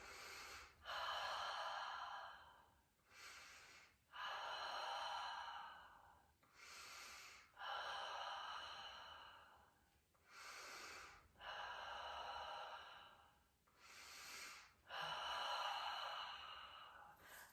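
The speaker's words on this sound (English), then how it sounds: "Take 5 breaths." Slow, deep breaths during a seated stretch with the fingers interlaced and drawn toward the chest: about five long inhale-exhale cycles, close and airy, each breath swelling then fading with short quiet gaps between them.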